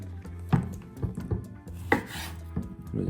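A knife chops through figs on a cutting board, trimming off their stems: a few distinct thuddy cuts spaced irregularly, close and fairly quiet, with no talking.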